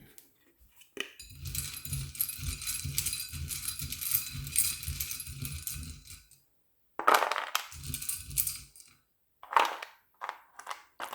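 Plastic letter tiles and small metal charms are shuffled and clinked together by hand, a dense rattling jumble for several seconds, then a pause and a few shorter clattering handfuls.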